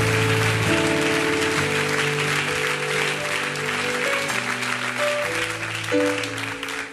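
A church congregation applauds during a prayer service, a dense and steady round of clapping that holds for several seconds over sustained keyboard chords.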